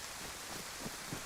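Steady rain falls as a dense, even hiss with no other sound on top. It stays faint throughout this short stretch.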